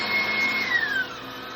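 An electric hand mixer whirs steadily through a lemon zest pound cake batter, a continuous close motor hum that drops in pitch and eases off near the end.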